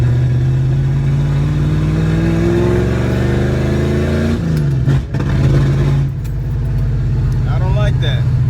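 Engine of a 1967 Plymouth Valiant running after a carburetor idle mixture and fuel pressure adjustment, a loud close idle that revs up in a rising sweep, drops back, then settles into a steady idle with brief blips, with speech over parts of it.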